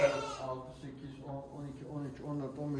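Sheep bleat repeatedly at close range on a Turkish farm where a Chios ewe flock has been lambing, with overlapping harmonic cries and a steady background murmur.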